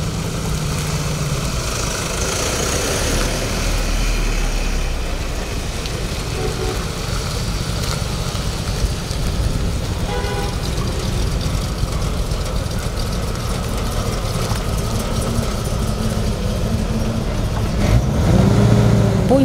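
Cars idle and pull away one after another in a steady engine rumble, loading up to carry a shipment of humanitarian aid from Zaraysk, with engine noise running continuously throughout at close range.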